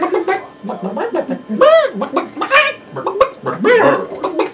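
People mimic chicken clucking and rooster-like calls in a loose group, voices rising and falling in short bursts that blend into laughter and talk.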